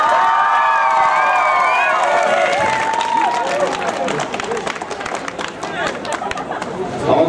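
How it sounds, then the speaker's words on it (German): Audience in an indoor ice arena clapping and cheering for a dancer at a freestyle dance battle, loud dense applause that thins out, with voices chattering throughout. "Jetzt dürft ihr einfach mal klatschen für Limey!"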